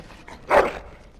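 A dog in the Dragon Age Origins game gives a single short, close bark standing out above a quiet background.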